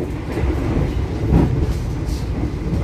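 Argo Bromo Anggrek passenger train running at high speed, heard from inside as a steady, loud rumble of wheels on rail with a smooth continuous roar and a brief swell midway.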